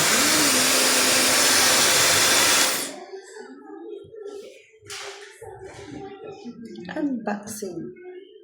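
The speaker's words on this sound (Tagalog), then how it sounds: "Bagong blower." A hair dryer blows with a loud steady whoosh for a few seconds, then switches off, and a person talks afterward.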